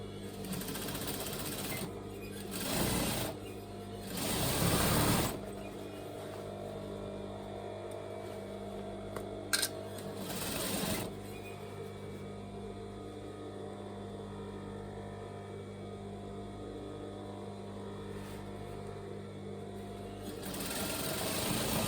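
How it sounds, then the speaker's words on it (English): Sewing machine stitching elastic onto the waistband area of rockabilly trousers, a steady close mechanical whirr running continuously with a few brief louder bumps and pauses. "that's where I'm going to be stitching the elastic on. So I'm just putting the edges together and running down the centre of the elastic."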